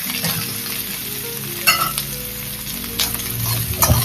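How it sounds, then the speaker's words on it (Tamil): Capsicum and paneer sautéing in a pan, a close, steady sizzle with a few louder stirring bursts over faint background music. "குடமிளகா எல்லாத்தையும் போட்டு ஒரு வதக்கு வதக்கி வச்சுட்டு பன்னீரையும் போட்டுக்கலாம்."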